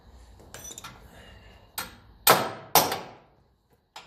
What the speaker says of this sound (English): So I'll have to tap out that nut there now and try to tackle the other one